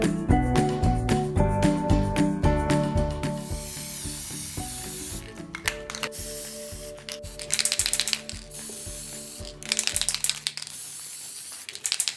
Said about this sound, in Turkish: Sprey boyayla tereğimizi boyayacağız.